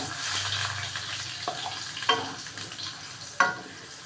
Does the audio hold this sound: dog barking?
no